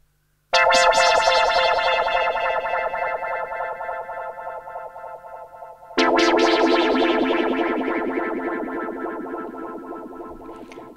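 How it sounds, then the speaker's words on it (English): A Juno 60 synth pad with modulation and two delays, built for speed garage, plays alone: a sustained chord that fades over several seconds, then restrikes loudly and fades again, with chorused, echoing tails. "that pad is the Juno 60 with some modulation on it and some delay"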